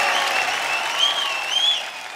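An audience at a Bhojpuri singing reality show breaks into sustained applause, a dense, even clatter of many hands clapping close by for a couple of seconds, heard alone.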